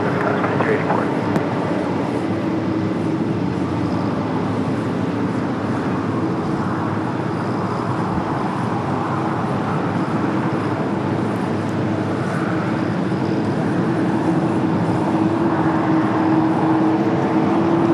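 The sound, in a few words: KLM Boeing 787-10 Dreamliner arriving at LAX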